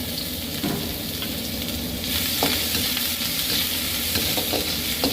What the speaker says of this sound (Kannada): ಬೆಳ್ಳುಳ್ಳಿ ಮತ್ತು ಶುಂಠಿನ ಹುರ್ಕೊಬೇಕು